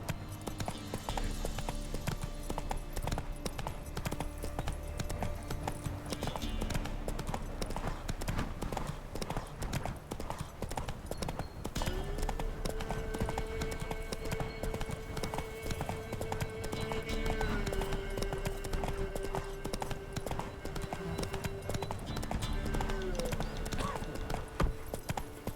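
Roach the horse's hooves clip-clop steadily in The Witcher 3, a continuous rhythmic trot over background game music and ambience, with a voice speaking faintly at times.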